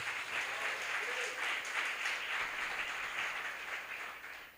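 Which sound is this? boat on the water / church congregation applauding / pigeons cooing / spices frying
church congregation applauding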